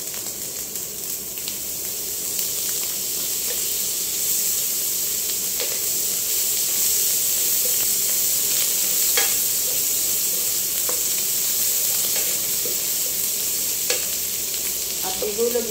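Butter sizzles in a hot pan while spaghetti sauce is being made, giving a steady, close frying hiss with scattered small pops and crackles throughout.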